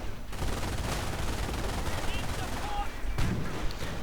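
Dense, continuous gunfire and explosions from Panzer Grenadiers in a World War II strategy video game, loud and unbroken.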